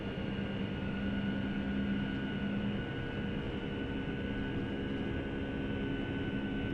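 Boeing 757-300 jet engines in Flight Simulator X drone steadily at takeoff power, a low even roar with faint tonal whines, constant and moderately quiet, with no talking.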